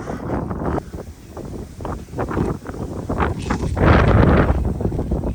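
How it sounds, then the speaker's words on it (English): Strong wind gusts buffet the microphone outdoors on a sheep farm, a loud, continuous low roar with surging bursts and rustling throughout, no talking. "the wind is kicking, temperature's dropping"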